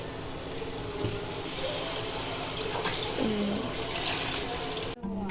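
Steady rushing water pours continuously into a pot of soaked rice for mutton kofta biryani, a close, even splashing stream that ends abruptly near the finish.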